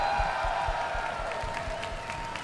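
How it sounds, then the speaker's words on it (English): A crowd applauds and cheers at the EVO fighting game event in Las Vegas, a dense, even roar of clapping heard from within the audience, with low rhythmic thumps running underneath. "I need to hear the loudest applause for two legends of the fighting game community right here"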